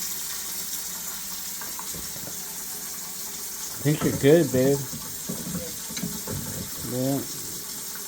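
Tap water runs steadily into a sink during plumbing work under a basket strainer, a low continuous wash with a nearby person talking briefly over it.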